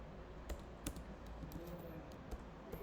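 Someone types on a computer keyboard while writing PHP code, giving a light, irregular run of separate key clicks at close range and a moderate volume.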